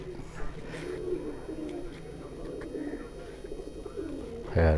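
A sturdy, heavy-bodied racing pigeon coos softly and steadily at a loft, low murmuring calls running throughout, with a louder bump at the end.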